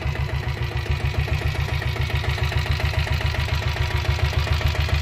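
A diesel Royal Enfield Bullet motorcycle engine, a 1997 model with self start, runs at a steady idle nearby, its rapid, even low thumping pulses continuing alone throughout.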